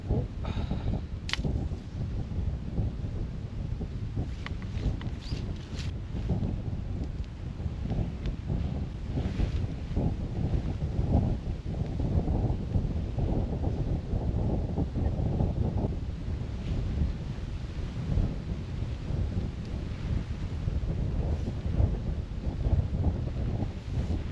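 Strong wind buffets a microphone outdoors at a Scottish wild camping spot, a steady loud roar of gusts lasting throughout with no voices.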